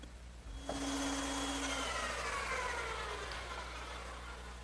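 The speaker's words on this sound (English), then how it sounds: "I'll cut it on my bandsaw" Bandsaw slicing through a piece of 1x6 wood for an Adirondack chair slat, a steady close whining cut that starts abruptly and holds at an even loudness throughout, with no talking.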